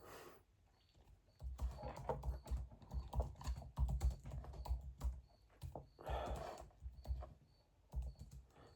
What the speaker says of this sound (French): Même écrire les gars sur le clavier, d'habitude, vous savez, je tape vite.